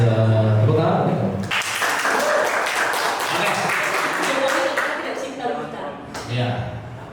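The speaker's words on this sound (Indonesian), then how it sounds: "Tepuk tangan" Audience applauding at an Indonesian political talk event, a burst of dense clapping that breaks in after a brief voice and carries on steadily, with talk resurfacing near the end.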